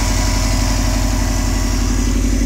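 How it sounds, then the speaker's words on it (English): A 2012 Subaru WRX STI wagon with an aftermarket downpipe and turboback exhaust idles at cold start with a deep, steady exhaust rumble, loud and close, pulsing evenly without any voices. "I really, really enjoy this exhaust. It's got a nice deep tone to it"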